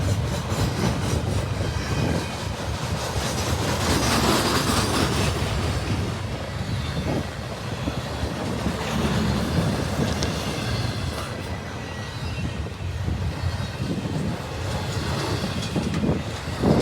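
CSX freight train led by an SD70M locomotive rolling past in Muncie, Indiana, a loud continuous rumble of wagons with steady clickety-clack of wheels on rail joints and occasional squeal.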